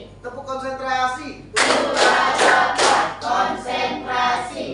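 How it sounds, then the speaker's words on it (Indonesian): A voice calls out first, then a group breaks into rhythmic tepuk konsentrasi clapping, several loud, close bursts of many hands pulsing in a steady pattern. "Tepuk konsentrasi."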